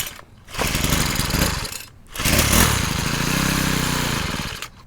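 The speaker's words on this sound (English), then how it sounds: "Engine sounded pretty good to me." A Troy-Bilt 4-cycle weed eater fires on starting spray and runs in two loud bursts, revving and buzzing up close with a brief drop-out between them, no voices over it.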